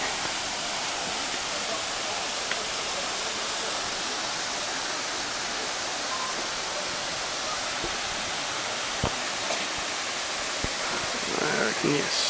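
A waterfall in Litchfield National Park pours in a steady, broad roar of falling water that holds unchanged throughout, with a few faint clicks and knocks on top and no talk.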